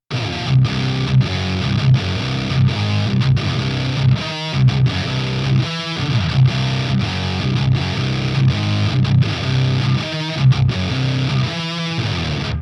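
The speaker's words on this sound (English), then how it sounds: "now with this engaged with some distortion, filtered out a bit and the volume dropped down slightly." Gritty, heavily distorted electric guitar playing a steady riff, filtered and slightly lowered in volume, loud and sustained, with brief gaps between phrases.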